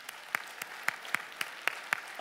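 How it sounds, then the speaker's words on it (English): Sparse handclaps from an audience at a live talk, about eight evenly spaced claps, fairly quiet and slightly distant, with no voices over them. "Round of applause if you've had that experience."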